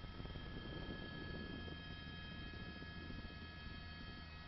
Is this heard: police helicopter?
yes